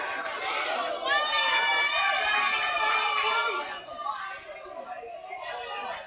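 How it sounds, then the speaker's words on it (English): Spectators at a high school baseball game between South Caldwell and Burns shout and cheer from both sides during a two-out, full-count at-bat, with voices rising loudly before easing to a lower chatter. "This crowd has come alive now on both sides"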